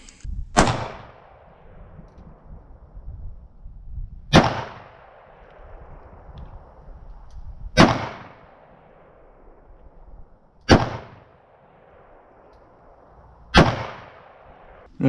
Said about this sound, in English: I'm going to go ahead and fire again in double action only.